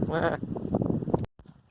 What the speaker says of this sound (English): You're only a sheep, mate.